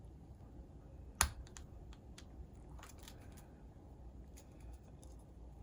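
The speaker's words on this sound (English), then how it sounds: "this piece goes in here, and then I'm assuming it just kind of clicks down" A camera mounting bracket for a Mobius Maxi 4K camera snaps into place with one sharp close click, followed by a few faint plastic ticks and handling sounds in an otherwise quiet room.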